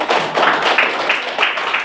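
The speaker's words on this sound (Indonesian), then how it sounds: "Oke, beri tepuk tangan dulu" Classroom applause for a discussion group after its presentation in a Catholic religious education teacher-training session, a brief burst of dense hand clapping from a room of students, fairly loud and close.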